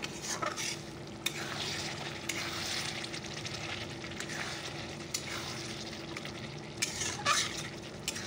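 Spiced chicken sizzles and fries in a pan while being stirred, with a continuous close hiss broken by scraping stirs and occasional clinks.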